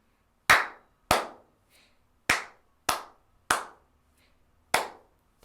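Hand claps beat out a practice rhythm for a piano lesson, six sharp, close, dry claps in an uneven pattern with quiet gaps between them, with no voice.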